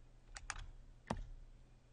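A few sharp computer keyboard keystrokes, close and crisp, come as a quick cluster and then one later tap over a low steady hum, with no talk.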